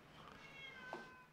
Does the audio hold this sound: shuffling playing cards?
no